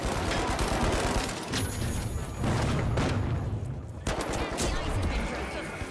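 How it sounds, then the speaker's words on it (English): Gunfire in the shooter video game The Finals, with several loud blasts and crackling shots in quick bursts over a dense game soundscape. "that shotgun is insane"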